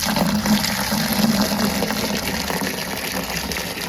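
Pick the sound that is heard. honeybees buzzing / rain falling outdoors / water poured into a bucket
water poured into a bucket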